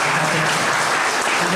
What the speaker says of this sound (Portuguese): Vamos dar uma salva de palmas para receber a nossa palestrante da noite.